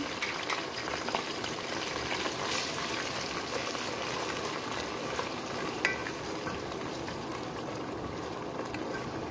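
Small shrimp hit a hot pan and fry in a sweet brown-sugar mixture, giving a steady, even sizzle with light crackles and occasional stirring scrapes throughout.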